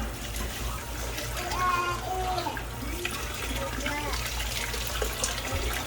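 Tap water splashes steadily while boiled eggs are peeled under the stream, a continuous running wash with a voice and adult talk over it.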